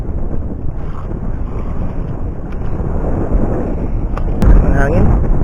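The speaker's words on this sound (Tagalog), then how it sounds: "Malakas ang amihan." Strong amihan northeast monsoon wind buffets the microphone on a small fishing boat at sea, a loud continuous roar and rumble with water wash that swells near the end.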